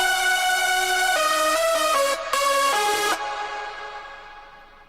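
Four-layer hardstyle synth lead built in FL Studio, a bright, buzzy sustained melody of held notes stepping through a short phrase, playing alone and fading into a reverb tail.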